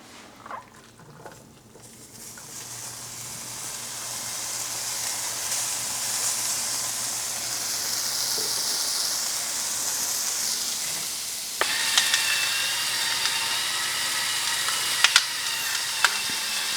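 Pork and onions sizzle in separate pans for fisherman's brewis, a steady hiss that builds after a quiet start, with a few sharp clicks of utensils near the end.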